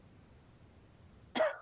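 A single short cough bursts out near the end after quiet room tone.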